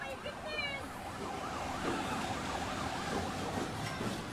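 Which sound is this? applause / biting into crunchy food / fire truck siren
fire truck siren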